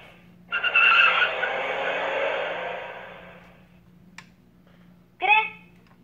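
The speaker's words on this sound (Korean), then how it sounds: "끼익 소리가 난다라고 합니다." Dash robot sounding a car tire-screech effect, a sustained skidding squeal lasting several seconds that slowly fades, then a brief squeaky chirp near the end, close and loud.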